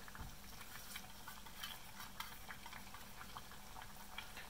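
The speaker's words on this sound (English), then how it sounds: "so the curry is simmering for about 3 minutes now and it's pretty much done" Konkani style rajma curry of red kidney beans simmering in a pot, a soft continuous bubbling and popping, close but quiet, with no voices.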